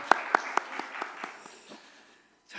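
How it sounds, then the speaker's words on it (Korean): Church congregation clapping in encouragement during a sermon, a few sharp separate claps at first, then scattered, fading applause with a quiet gap before a noise at the end. "우리 모두를 위해서 격려의 박수 했으면 좋겠습니다"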